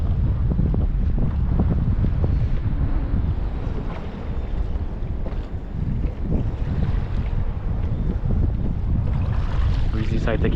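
Wind blows hard over a fishing kayak on open water near Chaguaramas, a steady loud rushing buffet on the microphone with water lapping beneath, and a voice may come through faintly.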